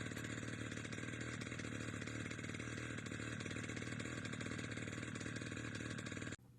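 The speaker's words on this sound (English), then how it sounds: "an idle period of at least a minute is important to allow the engine to cool down" Small gasoline engine on a Wick 375 portable water pump idling in a steady, even chug, running continuously and close before cutting off abruptly at the end.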